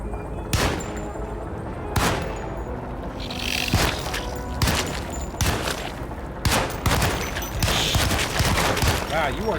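Machine gun fire in a video game rattles out as sharp, loud bursts every second or so, booming over a steady background of game noise and ambience.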